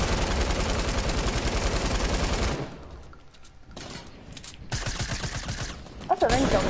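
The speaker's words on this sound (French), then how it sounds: "allez, mini à la mitraillette" Rapid submachine gun fire in the Fortnite video game, a dense sustained burst of shots for the first few seconds, then quieter game sounds and a couple of sharp shots near the end.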